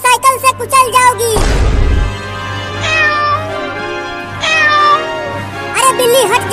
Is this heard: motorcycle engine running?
no